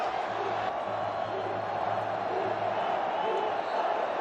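Vasco supporters chanting farewell in a stadium as Flamengo fans leave after a 2016 Carioca semifinal, a steady, dense wall of distant crowd voices with a low rhythmic chant running underneath.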